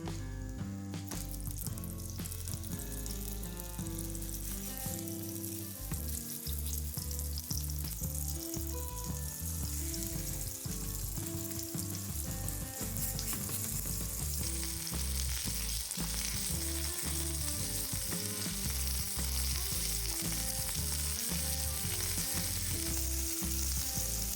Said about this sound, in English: Shape into burgers ready for the pan. Time to fry. Each side gets its golden moment.